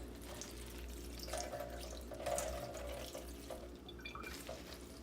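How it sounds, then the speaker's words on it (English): Water is poured over hanging plants in a kitchen sink and drips down, making a faint, continuous trickle and splatter against a low background hum. "I hang them here in my sink and just pour water till it drips down"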